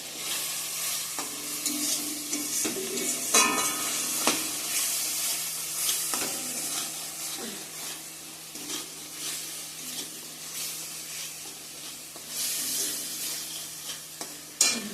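Masala fries in hot oil in a pan, a steady close sizzle broken by repeated scraping and stirring strokes of a spatula, with no talking.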